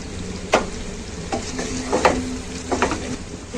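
Eggs sauté in a hot pan of oil with biryani masala, giving a steady sizzle broken by several sharp scrapes and clatters of a spatula stirring them, close and fairly loud, with no talking.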